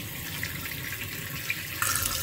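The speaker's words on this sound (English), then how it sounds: "So let's get the water running. We'll rinse it." Tap water runs steadily into a sink to rinse sprouting seeds, a continuous close hiss that grows brighter and louder near the end.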